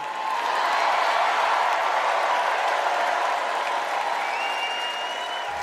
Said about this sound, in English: Huge applause break moment in the United Center.